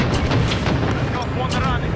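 Heavy gunfire and booming blasts from a killstreak in Modern Warfare, dense and loud, with radio-style voices talking over the barrage.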